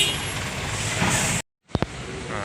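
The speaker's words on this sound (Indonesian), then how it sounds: "Mobil tronton, mobil bus." Heavy tronton trucks and buses run on the congested Jalan Soekarno-Hatta road, a loud continuous engine roar up close, then a brief cut followed by air-brake hisses and a couple of sharp knocks.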